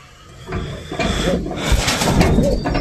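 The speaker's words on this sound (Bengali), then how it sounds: "এগুলো হচ্ছে আমার মাদি কবুতর" Female pigeons cooing in a loft, soft low throaty coos close by amid rustling, wing shuffles and light knocks that grow busier toward the end.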